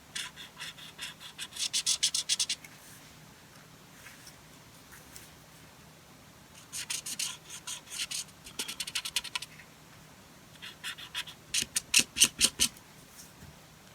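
A fine-tip marker is drawn over a penciled line on paper, producing close, dry scratchy strokes in short bursts separated by pauses.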